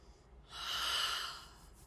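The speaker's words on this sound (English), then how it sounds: "And I take the oil and I just take 3 deep breaths." A single slow, deep inhale through the nose over essential oil, close to the microphone and soft, rising and fading within about a second in an otherwise quiet room.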